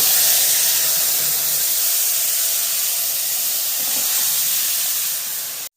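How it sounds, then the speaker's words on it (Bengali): Panch phoron spices hit hot oil and sizzle, a loud, steady, close hiss that holds for nearly six seconds and then cuts off abruptly. "তেল গরম হয়ে গিয়েছে এখন দিয়ে দিচ্ছি পাঁচ ফোড়ন"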